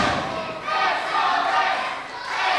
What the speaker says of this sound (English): And this crowd getting right behind SOS from the get-go as Charlie Rage tries to completely rip his